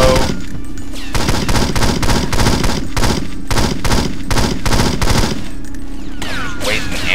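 Rapid automatic gunfire from the PC shooter 007 Nightfire, loud and close, sustained bursts with brief pauses, ending in a short gap before more shots and a trailing whine.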